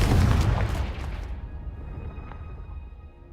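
A Confringo explosive spell goes off in Hogwarts Legacy with a loud, heavy boom that rumbles and slowly fades over a few seconds.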